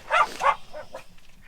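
Dogs bark in a busy car park before a walk near Keila Waterfall in Estonia, with two sharp close barks followed by two softer, shorter ones.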